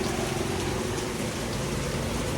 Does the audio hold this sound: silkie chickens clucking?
no